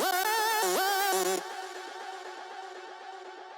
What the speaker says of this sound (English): I've sent this through to the delay, which gives it a really big, spacious sound.